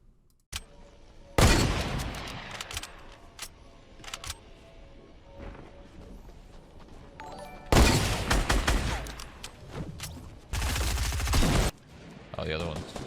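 Gunfire in the Fortnite video game: several loud, sharp bursts of rapid shots separated by quieter stretches with scattered single cracks.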